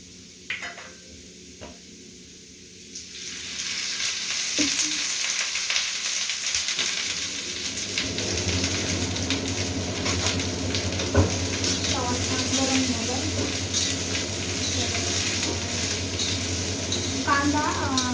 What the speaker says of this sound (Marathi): तर सगळ्यात आधी आपण कांदा भाजून घेऊया